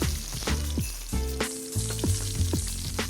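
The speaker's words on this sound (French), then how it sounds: "Ajoutez le poisson en le posant côté peau au contact de la poêle. Le saisir et remuer la poêle" A fish fillet sears skin-side down in a hot pan, meunière style, giving a loud continuous sizzle, with bursts of movement as the pan is shaken and steady tonal music playing over it.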